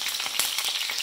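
Sausage frying hard in a pan, spattering and crackling steadily with dense sizzle and pops, close and loud for about a second.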